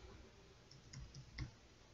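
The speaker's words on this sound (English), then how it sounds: "now I'm clicking W and it's moving forward." Faint clicks of a W key pressed on a computer keyboard, a few soft separate taps in quiet.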